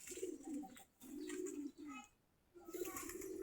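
Giribaj pigeons coo in several low, rolling phrases separated by short pauses, close by, with faint higher bird chirps in the background.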